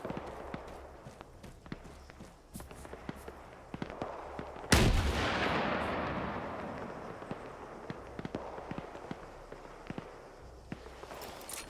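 Gunfire in an Arma military multiplayer operation defending COP Keating: scattered sharp shots crack throughout, then one heavy blast with a long rumbling tail. No voices are heard.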